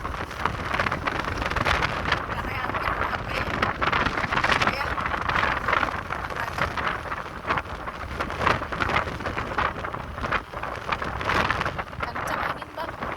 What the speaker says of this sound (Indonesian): Kencang angin bang.